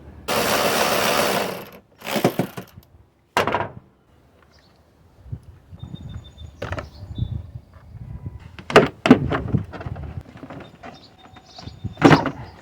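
Removing a 10mm bolt from the air intake housing of a Toyota Sienna 3.3 produces a loud opening burst, then scattered clicks, clanks and scraping at close range, with no talking.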